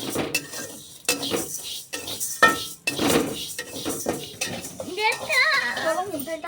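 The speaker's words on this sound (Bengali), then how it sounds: "একটুখানি ভেজে নিই" Moong dal being fried and stirred in a pan, with a utensil scraping and clinking against the metal in irregular strokes, close by, while a person talks over it throughout.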